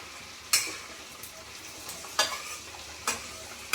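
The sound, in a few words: frying malpua in oil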